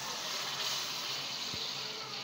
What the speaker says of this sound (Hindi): अब हम इसमें जितना हमें शोरबा रखना हो उतना पानी शामिल करेंगे